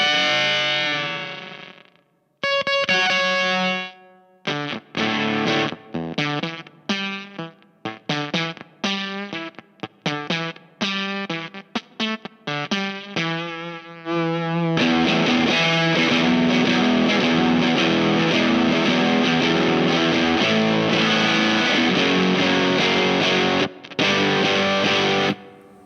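Warm Audio Warm Bender fuzz pedal on electric guitar, loud and distorted: a run of choppy, gated staccato stabs that cut off abruptly, then a dense sustained fuzzy chord wash filling the second half, with no talking.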